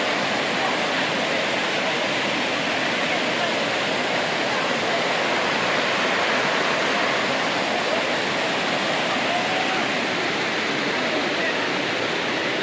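Sirnapalli Waterfall in Nizamabad roars steadily throughout, a dense, constant rush of falling water with no pauses or changes in intensity.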